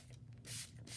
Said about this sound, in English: Just take the paper away from the table vertically and spray